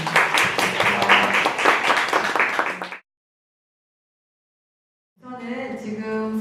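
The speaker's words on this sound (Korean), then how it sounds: "두 분의 앞날에 빛나는 건승이기를 바라면서 박수로 마무리하겠습니다." An audience at an open-studio public interview claps in a dense burst of applause, then falls silent, before the clapping returns briefly near the end.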